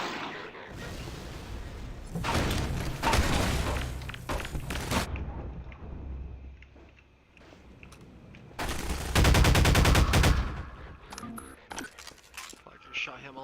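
Gunfire in the video game Half-Life: Lost Coast, with two rapid automatic bursts separated by a quieter lull, mixed with clatter, footsteps and people talking.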